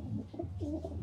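A six-year-old racing pigeon gives a close, soft, throaty coo, a short rolling call lasting about a second in a quiet room.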